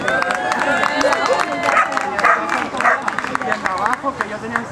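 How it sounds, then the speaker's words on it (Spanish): Crowd clapping for an announcer at an outdoor competition, a lively burst of many hands applauding nearby, with voices and chatter mixed underneath. "Y ahora un aplauso también para el speaker"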